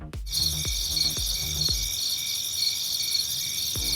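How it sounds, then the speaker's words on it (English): Steady high-pitched cricket chirping fills the background, a continuous pulsing insect chorus, with a few low thumps near the start. "Do you hear the crickets?"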